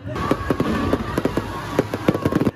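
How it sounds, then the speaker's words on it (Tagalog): Fireworks display bursting over Mandaue City during the Christmas Village opening at Heritage Plaza, with a rapid string of sharp, loud pops and crackles in an irregular rhythm over a continuous roar. "Nagliwanag din ang kalangitan dahil sa magarbong fireworks display."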